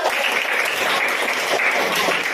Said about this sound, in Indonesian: Baik, aplaus.